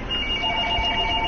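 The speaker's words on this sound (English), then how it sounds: "Sorry about the phone ringing." A telephone rings with a steady electronic trill, two sustained tones held through the short stretch, fairly loud over a dull background, no talking.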